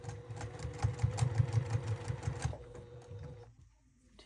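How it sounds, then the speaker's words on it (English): A sewing machine stitches a back tack on a beginner tote bag, a steady rapid mechanical whirring chatter for about three seconds before slowing and stopping. "And then do a back tack where you started out."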